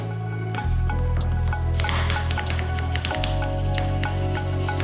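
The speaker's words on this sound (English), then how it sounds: "start off just trying to knock off some of the corrosion with a brass brush" Steady, loud scrubbing of a stiff brass brush rasping against corroded metal on a Hobie 16 catamaran, continuous strokes with a low hum underneath.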